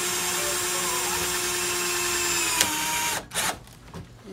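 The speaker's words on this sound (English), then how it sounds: "drive a half inch screw into the top of the accordion panel frame" A power drill drives a half-inch screw into the top of a window air conditioner's accordion panel frame. The motor whines steadily and close by for about three seconds, then stops, leaving brief clicks and handling noise.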